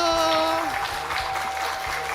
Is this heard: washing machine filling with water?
no